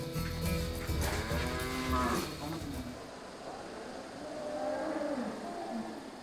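Cattle moo loudly and repeatedly at Naju's Yongsanpo Cattle Market as cows are moved for transport, long low bellows close by, with a second animal answering more faintly and a busy background.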